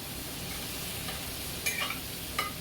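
Turmeric sautés in hot oil as a soft, steady sizzle with a few faint stirring scrapes near the end, quiet and close.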